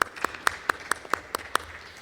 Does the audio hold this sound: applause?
yes